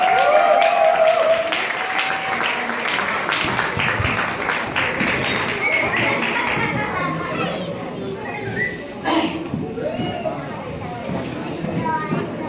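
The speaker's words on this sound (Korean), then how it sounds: "다시 한 번 큰 박수 부탁드립니다." A church audience applauds after a senior members' Christmas choir performance. Dense clapping opens the stretch and thins out, and voices and children's chatter come through under it and then take over.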